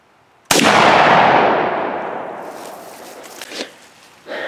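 A 30-30 rifle fires a single loud gunshot into a stack of laptops, a sharp blast followed by a long fading echo and a few small knocks and rustles afterward.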